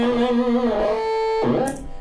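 Electric guitar through an effects pedal with a built-in oscillator, switching between played notes and the pedal's own sustained oscillator tone, loud and close, with a sharp attack as playing resumes near the end.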